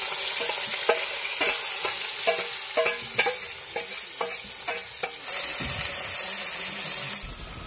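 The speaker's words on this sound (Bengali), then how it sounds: "তেল গরম হয়ে গেছে, দিয়ে দেবো আমাকে চুনো মাছ আর চিংড়ি মাছ।" Small fish and shrimp sizzle steadily in hot mustard oil, with a utensil scraping and stirring the pan in repeated sharp knocks, close and continuous, no voices.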